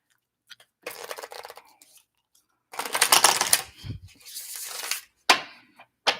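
Tarot cards being shuffled by hand, a run of crisp riffling and flicking bursts in several bouts separated by brief pauses, close and fairly loud with no talk.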